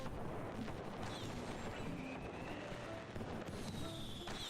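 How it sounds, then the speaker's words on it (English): Fireworks burst during a winter event in the video game Heartopia, a steady stream of crackling pops and whistling rockets layered densely over each other at moderate volume. "It's very quiet because the fireworks are so loud."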